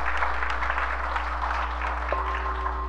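Warm applause from the audience at a Buddhist ceremony in Taiwan: steady dense clapping from a crowd, moderately loud, over a constant low electrical hum.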